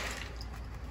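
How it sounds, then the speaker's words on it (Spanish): Dried beans being rinsed by hand in plain water, a soft, close splashing and squishing that runs steadily for about a second with no voices. "Y los vamos a lavar muy bien, dos veces, solamente con pura agua."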